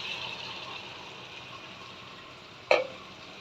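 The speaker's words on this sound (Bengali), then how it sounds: "এখন আমি দিয়ে দিচ্ছি হালকা একটু জল।" A little water poured into a hot pan of melted butter for butter chicken gives a soft, steady frying hiss, then a sudden brief burst of sizzle near the end.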